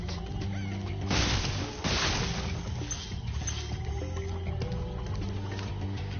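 A chicken clucks in a swamp level of the video game Spyro the Dragon Reignited, mixed into busy game music and effects that play continuously.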